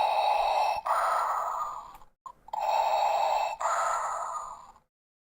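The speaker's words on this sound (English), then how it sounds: "Vader breathing." A Darth Vader toy plays its mechanical breathing sound, two slow, loud in-and-out breath cycles separated by a short pause, heard alone with nothing else.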